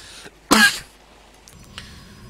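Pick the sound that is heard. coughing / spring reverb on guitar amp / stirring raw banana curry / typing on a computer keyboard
coughing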